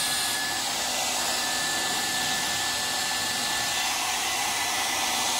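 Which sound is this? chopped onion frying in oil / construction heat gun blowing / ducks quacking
construction heat gun blowing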